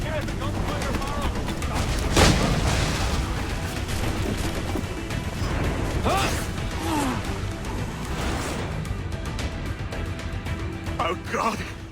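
Gunfire and crashing blasts ring out in Assassin's Creed Black Flag, with sharp bangs amid dense, noisy battle sound and game voices shouting throughout.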